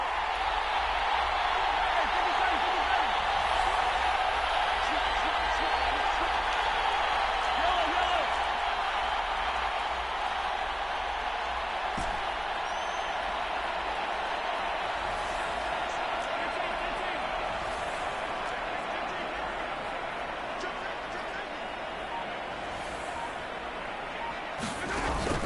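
Simulated stadium crowd in a Madden football game on PS4 builds before a big third down, a steady, dense roar throughout with a voice commentating over it.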